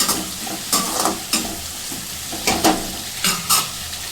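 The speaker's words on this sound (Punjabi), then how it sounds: "ਫਿਰ ਸਾਡਾ ਮਸਾਲਾ ਫਰਾਈ ਹੋ ਚੁੱਕਾ" Masala spices frying in a pan for a sweet-and-sour pumpkin sabzi, with a steady sizzle under several louder bursts of stirring and scraping against the pan.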